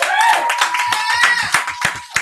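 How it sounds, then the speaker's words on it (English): An audience claps a round of applause for an honoured guest at a training event, a short burst of close hand claps with voices talking and calling out over it throughout. "Y'all give Mrs. Nina Moore a round of applause"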